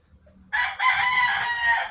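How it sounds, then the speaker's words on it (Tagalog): A rooster crows loudly and close by, one long drawn-out call after a brief faint cluck. "meron pang tumitilaok na manok habang nag-voice over"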